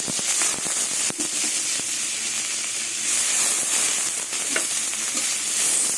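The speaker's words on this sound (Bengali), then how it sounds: "এবার গোবিন্দভোগ চালটা ভেজে নেব" Steady, dense sizzling of Gobindobhog rice frying in ghee in a wok, with occasional scraping clicks of a spatula stirring throughout.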